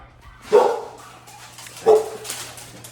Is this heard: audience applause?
no